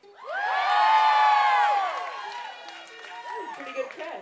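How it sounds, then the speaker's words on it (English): A concert crowd at the Bowery Ballroom in New York roars with loud cheering and high whoops that peak, then fade into scattered shouts and chatter. "Pretty good crowd."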